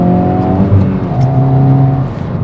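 A Hyundai i20N hot hatchback pulls hard in second gear, its engine note rising steadily with a shift-like dip midway, loud and close from inside the car, with no talk.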